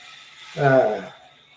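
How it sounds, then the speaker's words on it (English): An electric hair shaver used to keep a head bald gives a short, loud, close buzzing whirr lasting about half a second, with a steady mechanical hum and no talking over it. "Use my brother's shaver just like this"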